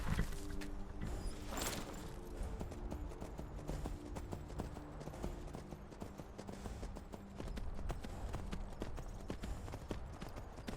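Horse hooves clip-clopping in the video game Skyrim, a steady rapid trot of close hoofbeats continuing throughout, with faint game ambience behind.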